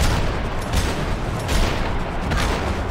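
Gunshots in Max Payne 3, dense loud bursts of firing with several sharp cracks standing out over a constant heavy rumble.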